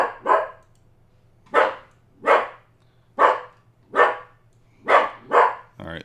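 A dog barks in a steady series of about eight loud, close, sharp woofs spaced roughly a second apart, with a low continuous hum underneath and no talking.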